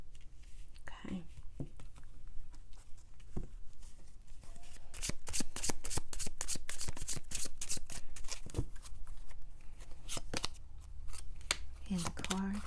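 Tarot cards are shuffled close by in a quiet room, a dense run of crisp riffling flutters and slaps that builds in the middle and recurs in bursts, with faint breathy murmuring in places.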